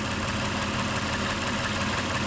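A Toyota Tacoma's 3.4 engine, being checked for a lean condition, idles steadily at close range, giving a dense, even rumble with no variation in speed and no voices.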